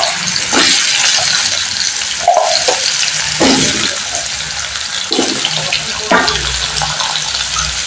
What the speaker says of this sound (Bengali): এই একই তেলের মধ্যে আমি আলুটা অ্যাড করে দিচ্ছি।